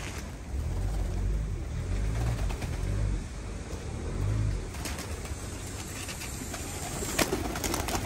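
Low, soft cooing from a pigeon or dove repeats a few times over a steady outdoor background hum, with faint clicks and rustles.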